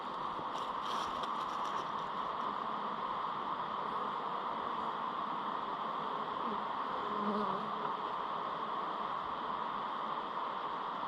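Honey bees droning steadily around a wooden hive box with a crack the bees are entering through, a continuous close buzz with no talk.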